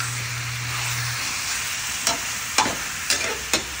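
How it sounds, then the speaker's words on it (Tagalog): Creamy chicken curry sizzles steadily in a pan, with four sharp scraping stirs of a utensil against the pan in the latter half, up close. "Haluin lang natin siyang maigi"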